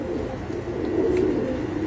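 Pigeons kept on a house rooftop coo in a soft, continuous low murmur, close by and steady, with no talking.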